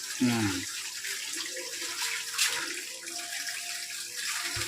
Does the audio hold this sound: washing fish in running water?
yes